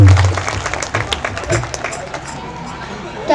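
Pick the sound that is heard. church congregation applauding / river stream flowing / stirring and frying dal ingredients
church congregation applauding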